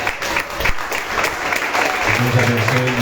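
A church congregation claps steadily and continuously, close and lively, with a hum of voices and low music starting near the end.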